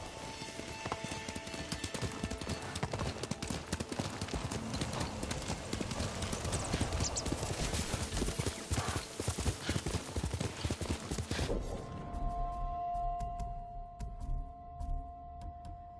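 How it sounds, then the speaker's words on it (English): Horse galloping in the video game Ghost of Tsushima: rapid, continuous hoof clip-clop, close and steady for most of the passage, fading out near the end, with a short whinny-like tone as it settles. "You're a good horse."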